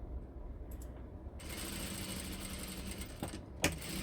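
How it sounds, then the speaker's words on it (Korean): A sewing machine stitches a pin tuck on a dampened blouse front panel, giving a close, steady mechanical whir with a sharp click near the end. "물 뿌리면서 또 미싱 해보긴 처음이다"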